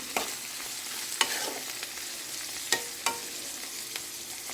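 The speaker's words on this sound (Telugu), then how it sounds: "ఉప్పు కారం వేసి టమాటాలు కూడా వేసి" A bitter gourd curry with salt, chili powder and tomatoes simmers and sizzles quietly in a pan, under a faint steady hiss marked by a handful of soft spoon taps and stirring scrapes.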